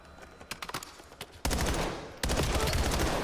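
Gunfire from a Call of Duty esports match: a quick run of crisp separate shots is followed by two long, loud sustained bursts of automatic fire that fill the rest of the clip.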